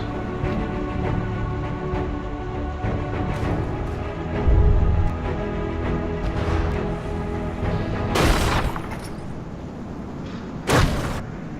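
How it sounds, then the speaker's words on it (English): Missile explosions in a war video game, with a steady engine-like drone throughout and a few sharp loud blasts and thuds standing out, the strongest two near the end. "Just being popped by missiles."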